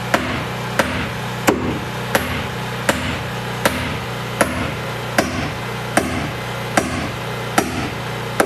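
Galvanized nails are hand-hammered into tongue and groove boards, giving sharp, evenly spaced metallic strikes about every 0.7 seconds, close and loud over a low steady background hum.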